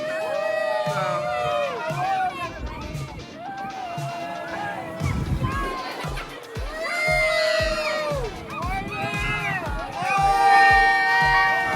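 Riders scream and cheer together on an amusement park roller coaster at Lake Winnepesaukah in Rossville, Georgia, with shrieks rising and falling in waves over rumbling track noise and some shouting, loud and close.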